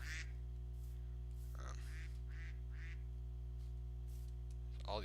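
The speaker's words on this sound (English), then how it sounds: "There's ducks." Ducks in the video game Alpha Inc give several short scattered quacks over a constant low electronic hum, fairly clear and spaced irregularly, with no talking.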